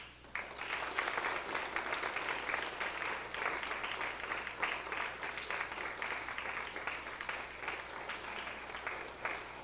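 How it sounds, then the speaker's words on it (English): Graduates at a 2024 Brentwood High School graduation ceremony give their parents sustained, loud applause, a dense wash of many hands clapping steadily for nearly ten seconds. "I want you guys to give your parents the hardest hand clap you can possibly give them at this time."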